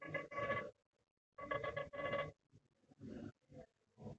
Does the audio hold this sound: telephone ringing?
yes